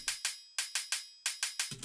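Single electronic hi-hat from a Friday Night Funkin' track tapping a short syncopated pattern of crisp, bright ticks, heard alone and fairly quiet.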